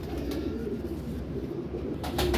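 Sialkoti female pigeons with blue eyes coo softly and steadily in a low murmur, with a few brief rustles and flutters near the end.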